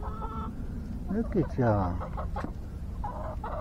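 Roosters cluck and call close by in a backyard coop, several short throaty bursts, while a person talks to them.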